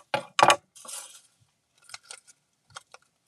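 Scissors snipping through paper to cut a fringe while decorating a spooky house, a few crisp separate cuts and small clinks, close and fairly quiet, with no talking.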